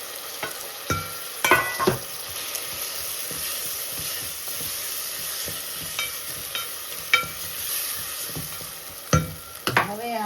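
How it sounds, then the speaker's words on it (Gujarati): Ginger and green chilies with turmeric sautéing in a pan, a steady oily hiss beneath repeated scraping and clattering strokes of a spoon stirring, some sharp knocks against the pan. "આદુ મરચાં અને સતળાવી દેવાના છે આવી રીતે."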